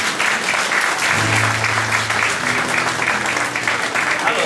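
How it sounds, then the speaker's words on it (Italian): An audience claps steadily for a young boy named Cristian at a live event, a dense, loud round of applause that runs throughout with a brief low voice murmuring beneath it. "Glielo fate un applauso a Cristian?"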